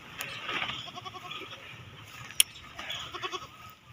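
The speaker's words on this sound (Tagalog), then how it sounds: "Ito na yung mistisang kambing na hinahanap ko." Goats bleat in India, with several short, wavering cries in two clusters, heard at moderate distance over faint background noise and a single sharp click.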